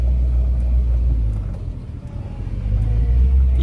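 A car rumbles past on a rural road beside a field, its deep engine drone swelling, dipping briefly midway and rising again, loud and close, with no voices.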